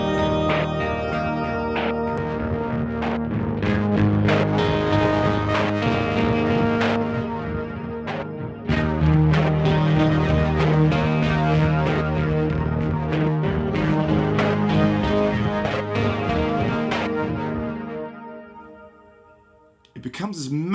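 A guitar synth with shimmer delay plays layered sustained tones over drums, dense and loud throughout before cutting off near the end.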